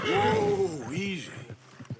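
A horse in a video game lets out a loud, wavering whinny close by, followed by a few quick clopping hoofbeats on the ground.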